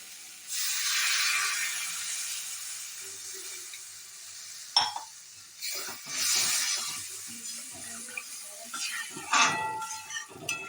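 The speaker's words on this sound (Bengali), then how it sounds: "আমি এবার দিয়ে দেবো মশলার মধ্যে জল" Water poured into frying spice masala in a pan, a loud burst of hissing steam that fades, followed by scattered stirring clatter and further softer sizzles.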